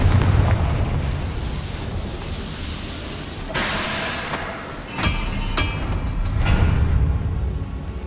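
A Confringo fire spell explodes in Hogwarts Legacy, bursting in loud booming blasts over a dense rumbling game soundscape, with several sharp cracks spaced a second or so apart.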